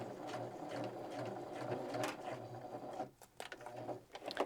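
Viking 118 sewing machine stitching a narrow zigzag, a steady rapid mechanical whir and clatter at close range that stops near the end, followed by a few clicks.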